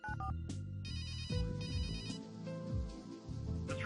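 A telephone rings in the point-and-click adventure game Runaway, a bright electronic ringtone of steady repeated tones that plays alone and fairly loud for a few seconds.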